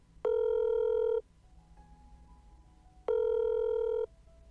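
An unanswered phone call rings as two long, steady electronic ring tones with a pause between them, clear and close.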